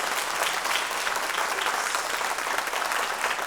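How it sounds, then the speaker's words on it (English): An audience at a Pursuing the Dream 2023 panel event applauds the panelists, a dense, even burst of many hands clapping that holds steady throughout. "can we please give a round of applause for Ms. Anderson, Mr. Stopper, and Mr. Roberts"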